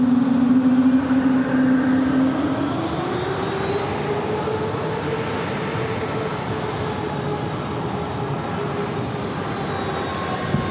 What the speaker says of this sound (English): Breeze aircraft heading it back to Raleigh-Durham.